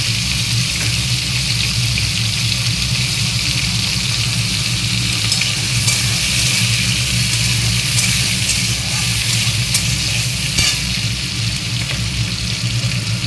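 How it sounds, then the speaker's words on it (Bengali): Onion and capsicum fry in a pan after potatoes, a loud, steady sizzle with a low hum running underneath throughout, and no voices. "পেঁয়াজ আর ক্যাপসিকাম লঙ্কাটা দিয়ে দিলাম।"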